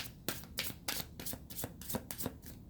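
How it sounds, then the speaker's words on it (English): Tarot cards riffle and snap in quick repeated bursts, about a dozen crisp shuffling flicks, close and fairly quiet. "Okay, one more shuffle."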